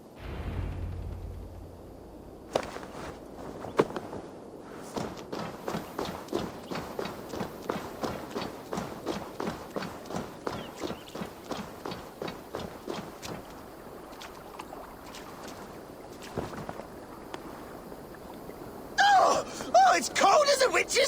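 Horse hooves clip-clop in a steady, plodding rhythm through Assassin's Creed Valhalla, a long regular series of moderately loud thuds that thins out near the end before a brighter burst of game sound.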